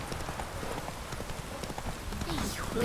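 Hooves clip-clop steadily as a horse gallops in The Witcher 3, the rhythm running close and clear throughout with a voice talking over part of it.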